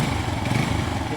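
A cheap, recently bought secondhand motorcycle engine runs steadily up close, a continuous low rumble with rough mechanical texture and no gaps.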